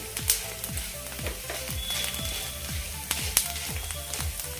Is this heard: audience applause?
no